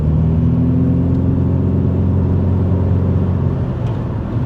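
Rover 216 Coupe with a CVT gearbox accelerates on kickdown, a loud, steady engine drone heard from inside the cabin, with a smooth, continuous tone and no talking.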